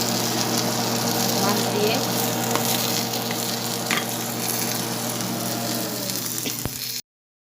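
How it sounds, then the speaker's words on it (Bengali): Coriander seeds and chillies dry roasting lightly in a wok make a steady, close sizzle with soft crackles and a few brief clicks before it cuts off abruptly. "এগুলাও কড়াইতে একটু টালা দিয়ে নিচ্ছি হালকা"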